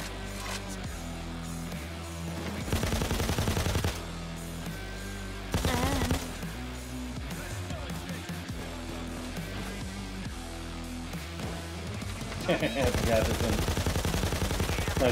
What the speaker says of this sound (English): I think an M60 might have been a little overkill.